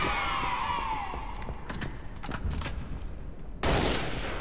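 Bursts of rapid weapon fire in a Halo MCC multiplayer match, loud and fairly continuous, with a sharper louder volley toward the end and no clear talking.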